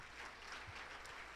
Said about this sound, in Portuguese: Vamos receber, aplaudindo Jesus.